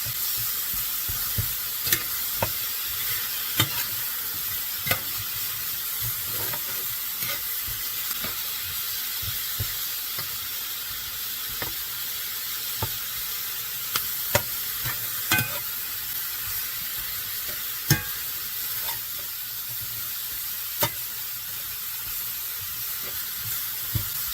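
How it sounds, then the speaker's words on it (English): Mushrooms and onions frying in a cast iron skillet give a steady, close sizzle that hisses on without a break, dotted with sharp clicks and taps from stirring. "I'm going to want to put a really nice brown on these mushrooms and onions"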